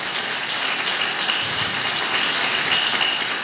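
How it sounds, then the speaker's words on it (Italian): Warm audience applause at a book presentation of Cara Giulia, steady and full-bodied clapping throughout the short stretch without speech. "salutiamolo con un caloroso applauso"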